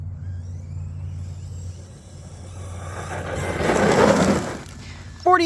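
An RC basher car fitted with a Hobbywing Max8 G2S 6S ESC runs at speed, its motor whine swelling to a loud rush as it passes close, then fading, with a sharp burst at the end.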